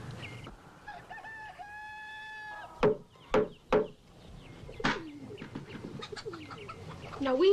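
A rooster crows once and then clucks in short loud bursts on a Wild West farm, followed by scratchy chattering calls and other fowl sounds, close and clear, with no speech.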